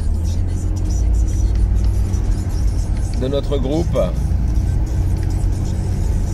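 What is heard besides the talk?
cars driving past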